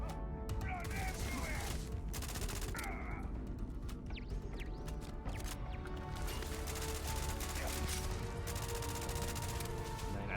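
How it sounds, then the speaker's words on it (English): An old assault rifle known as the Space AK firing in Starfield, dense rapid bursts of gunfire and mechanical clatter filling the whole stretch, loud and continuous, with a voice talking underneath. "this was the Space AK, or the old assault rifle"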